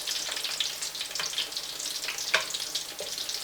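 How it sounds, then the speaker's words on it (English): Onion bhajis frying in hot oil give a steady bright sizzle and crackle, with a few spoon clinks and scrapes as they are turned over, and no talk. "So what I'm going to do is just going to flip them over using a spoon."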